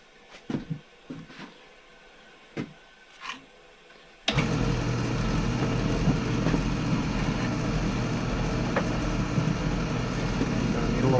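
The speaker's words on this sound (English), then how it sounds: "I'm going to take the bandsaw and I'm going to slice this end off rather than try to grind that off." Bandsaw slicing the end off a long steel chisel, starting abruptly after a few scattered knocks and then droning steadily and loudly with a broad grinding hum for the remaining seconds.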